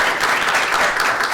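A steady wash of audience applause welcomes a speaker at a university event. Dense, even clapping fills the whole short stretch, loud and close, with no voices rising above it.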